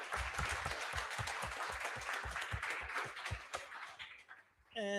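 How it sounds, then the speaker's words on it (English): Audience applause at a developer talk on DevContainers, a sustained broadband patter of many hands from start to finish, with a brief dip near the end before a voice begins speaking. "let's give another round of applause"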